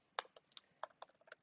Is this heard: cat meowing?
no